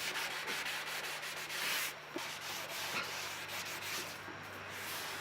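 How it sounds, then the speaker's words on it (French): A damp sponge wipes fresh glue off a wooden joint after gluing in a woodworking shop, making soft, rhythmic scrubbing strokes against the wood. The rubbing is close and fairly quiet, with no voices. "après un collage, prendre une éponge humide et bien l'essuyer"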